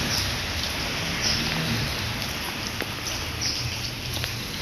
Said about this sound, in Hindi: सुबह 4 बजे से बारिश हो रही है और आसमान गहरे बादलों की लपेट में है।